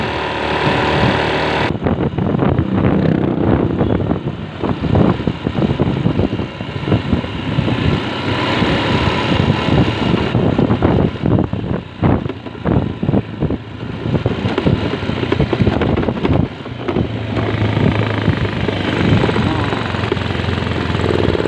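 A motorcycle engine runs while the bike is ridden, a loud, rough rumble mixed with gusty wind noise throughout, with a person talking over it.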